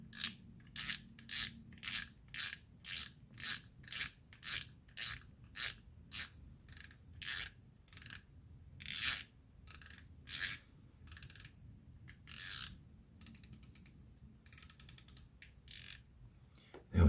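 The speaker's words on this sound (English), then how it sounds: "the way the handle links through the gears to turn the rotor" A Shimano Stradic FH spinning reel with its handle cranked steadily, giving a long run of close, crisp ratcheting gear clicks in regular bursts that speed up and blur toward the end, with no talking.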